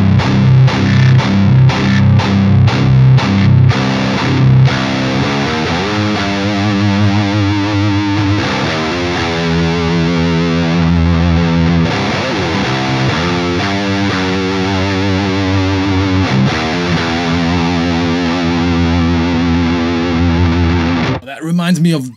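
Electric guitar with heavy distortion played through a DI box, chugging palm-muted chords and sustained high-gain notes ringing loud and close, with a short burst of talk at the very end.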